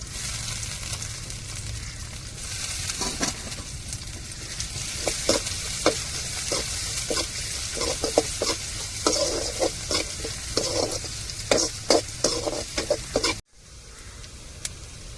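Curry leaves sizzle and crackle in hot oil while being stir-fried in a pan for a home-cooked Tamil dish, a steady loud hiss with sharp spattering pops and stirring scrapes, cutting off abruptly near the end.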